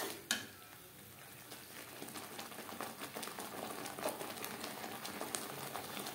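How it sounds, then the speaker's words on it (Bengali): Spice paste of ginger and green chilli being stirred with onion, garlic and tomato in a pan for street-style ghugni, a low continuous sizzle with soft scraping strokes and an early sharp clink. "মশলা বেশ ভালো করে পেঁয়াজ, রসুন ও টমেটোর সাথে মিক্সড করে দেবো"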